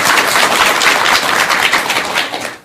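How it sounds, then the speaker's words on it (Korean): An audience at a Buddhist talk program applauds, a loud, dense patter of clapping that holds steady and then fades out toward the end. "박수 한번 드리시기 바랍니다."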